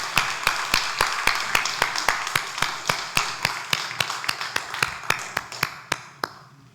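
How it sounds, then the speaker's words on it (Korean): A church congregation applauding during a Sunday service, heard as a steady, even run of sharp, unison claps, roughly three or four per second, close and prominent before trailing off at the end. "하나님께 영광의 박수 올려드립니다"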